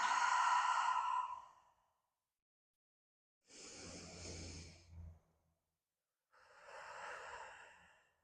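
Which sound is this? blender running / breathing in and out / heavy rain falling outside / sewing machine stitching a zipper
breathing in and out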